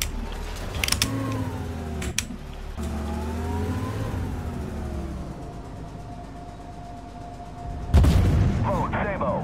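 Tank cannon fire and engine rumble in the armored combat video game Armored Warfare: a deep, steady vehicle drone carries throughout, broken by several sharp blasts, with a heavy boom near the end.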